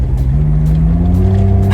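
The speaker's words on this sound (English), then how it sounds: "that turbo really kicks in" A Suzuki Cervo Mode kei car with a turbo accelerates, its engine note rising steadily in pitch as the boost builds, loud and close from inside the cabin.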